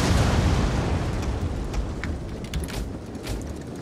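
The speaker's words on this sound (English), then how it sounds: "really lay into them with some explosive fire as opposed to snowballs" Artillery in Rome Total War 2 fires explosive shots into troops, a dense continuous rumble of booms and crackling impacts, loud and close, with a few sharper bursts and no talking.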